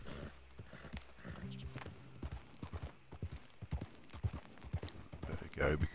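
Horse hooves clip-clopping at a steady trot in Red Dead Redemption 2, rhythmic thuds under continuous game ambience and some talk, growing louder near the end.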